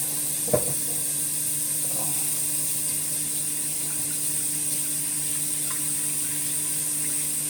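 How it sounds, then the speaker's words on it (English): Tap water runs steadily into a home kitchen sink while hands are washed during bread making, a constant close hiss with a faint clunk near the start; no talking. "Wash our hands."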